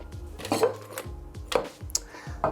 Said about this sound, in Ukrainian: Заповняємо шейкер льодом на три четверті.